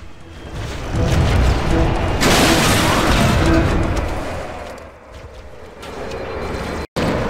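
A rocket launcher fires in Halo: Combat Evolved, a loud booming blast that swells and slowly fades over several seconds before the clip cuts off abruptly.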